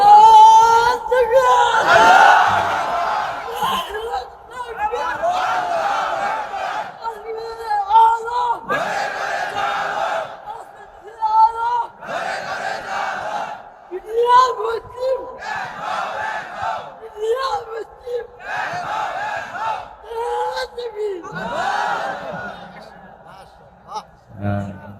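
A crowd at an outdoor Islamic waz sermon gathering chants a slogan in loud, rhythmic bursts of massed voices, repeated in a regular call pattern over about twenty-five seconds.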